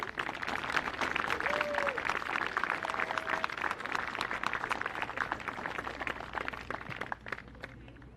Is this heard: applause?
yes